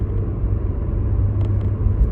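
A used Acura TL's engine rumbles and pulls as it accelerates, heard from inside the car as a steady, smooth low drone with no talk.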